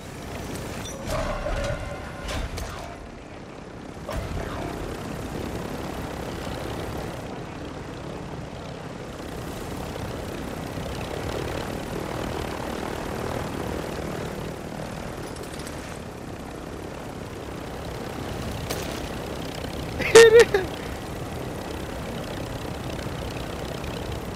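Helicopter in Call of Duty Modern Warfare II Warzone, a steady broadband rotor and engine drone filling the whole stretch at moderate level, with a sharp burst near the end.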